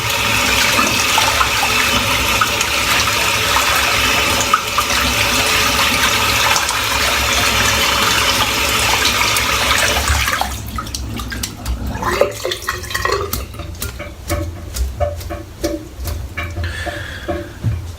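A brush is rinsed under strongly running water, a loud continuous gush for about ten seconds that then cuts off, leaving scattered drips, clicks and small handling noises.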